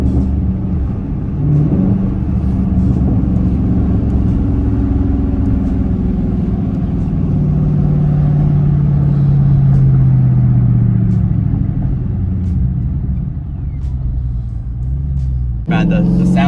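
A 2021 Dodge Charger widebody with its mid muffler deleted rumbles steadily and loudly up close, a deep exhaust drone that swells and falls with revving.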